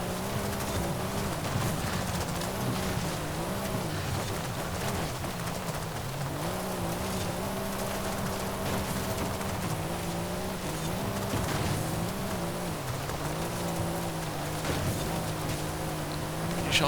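A Pagani Huayra R races in the Forza Horizon video game, its engine a continuous loud drone rising and falling in pitch through gear changes and corners, steady throughout with no talking.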